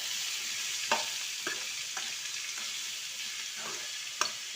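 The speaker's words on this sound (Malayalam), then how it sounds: "നമ്മൾ അരിഞ്ഞ് വെച്ച പപ്പായ ഇട്ട് കൊടുത്ത് നന്നായി ഇളക്കണം" Chopped papaya with curry leaves stirred in hot oil in a pan for papaya thoran: a faint, steady sizzle broken by occasional soft knocks of a spoon against the pan.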